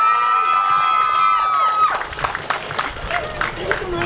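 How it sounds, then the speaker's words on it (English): Audience at a 2016 student-government executive cabinet election debate cheers and applauds for a candidate, a loud crowd burst with whistles and shouts that thins into scattered clapping and voices. "Let's give a round of applause to our candidate."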